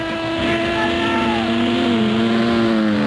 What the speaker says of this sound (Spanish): Una moto, maestro. A ver la moto.